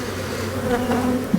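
Honeybees buzzing around an open hive during a honey yard inspection, a steady low drone of many bees close by, alone without talk, with a brief louder buzz at the end.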